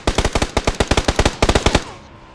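Rapid automatic gunfire in PUBG Battlegrounds, about twenty sharp, loud shots in quick bursts with brief gaps, close and clear with no talk over it, ending in a short fading tail.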